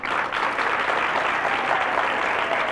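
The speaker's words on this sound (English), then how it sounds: "please, a nice round of applause for Mr. Jack Lundy." Loud, continuous clapping from a TV studio audience, close and dense, holding steady for a few seconds.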